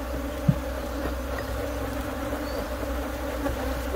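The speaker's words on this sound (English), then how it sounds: "I've got a whole lot of bees on the inside of this box." Honeybees hum steadily inside a hive box during a canola split, giving a constant dense buzz of many wings. A single faint tap sounds near the start.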